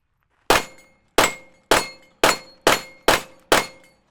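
Seven fast pistol shots from a Glock 17 ring off a steel target, each a sharp metallic clang with short decay, spaced roughly a half second apart in a quick steady rhythm.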